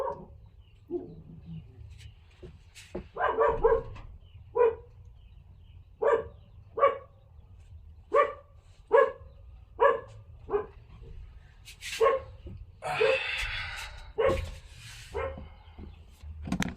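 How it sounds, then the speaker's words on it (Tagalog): A dog barks repeatedly at a steady pace, sharp single barks spaced about a second apart, fairly close, over a low background hum. "Tumahol yung aso."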